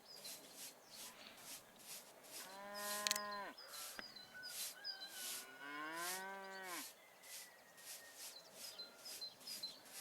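Cows in a video game lowing twice, long drawn-out moos over a steady rhythmic ticking of insect-like background clicks, at moderate distance.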